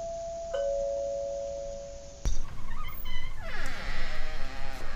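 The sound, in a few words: doorbell ringing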